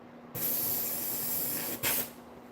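Material squirts out through a nozzle in a long, steady, loud hiss, which cuts off and then returns as a short second burst.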